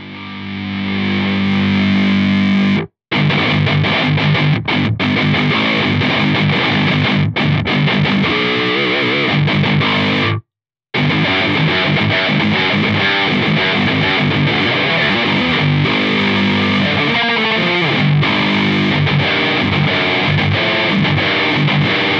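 Electric guitar through an Avid Eleven Rack amp patch with a Stonegate Messenger Boost pedal, miked on Vintage 30 speakers with an SM57: loud, heavily distorted playing with two brief full stops, no talk.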